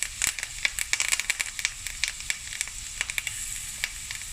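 Garlic and thyme sprigs frying in a pan on medium heat, a steady close sizzle broken by dense crackling pops throughout, with no talking.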